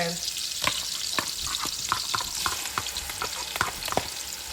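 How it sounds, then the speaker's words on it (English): Onions sizzle in hot oil in a pot for egusi soup, a steady close frying crackle broken by repeated short scraping stir strokes. "let's toss the onions in"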